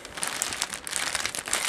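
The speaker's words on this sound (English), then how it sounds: "Got some plastic bags." Plastic bags from a family bug-out food supply crinkle and rustle in a quick run of sharp crackles, handled close by, with no talk over them.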